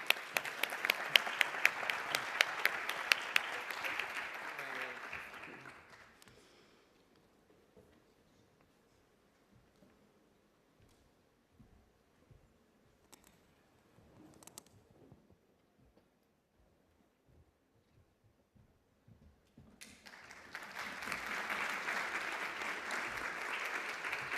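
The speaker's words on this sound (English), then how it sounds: "Big clap for Development Gardening and the Batwa community." Audience applause for award laureates at an agrifood innovation ceremony, dense clapping that fades out, leaving a long stretch of near silence with faint ticks, then swells back into full applause.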